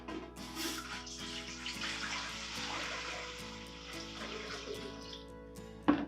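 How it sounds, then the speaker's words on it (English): A steady stream of water pours into a 4-quart cooking pot, rushing continuously and fairly close for several seconds before ending with a small clunk. "using this pot right here, about 4-quart pot, I'm going to add about 2 quarts of water into it."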